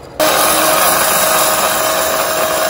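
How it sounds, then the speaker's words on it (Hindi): An electric spice grinder whirs loudly and steadily as it grinds roasted cumin seeds, starting abruptly after a brief quiet moment and running without pause to the end. "चले, जीरा इसमें डालेंगे ग्राइंडर में"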